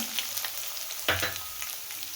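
Sliced carrots for veg hakka noodles drop into hot oil in a pan with green chillies, giving a soft sizzle with one brief louder burst of frying partway through, close by and without talk.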